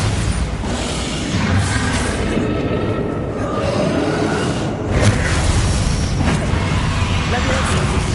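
A Bombarda spell explodes in a Harry Potter wizard video game, a dense, loud booming blast amid continuous game noise, with a voice shouting the incantation.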